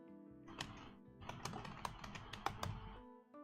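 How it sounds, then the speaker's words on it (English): Fingers typing on a computer keyboard, a quick irregular run of clicky keystrokes close by and fairly quiet, with a few pauses and no voices. "Yes, lovely keyboard sounds."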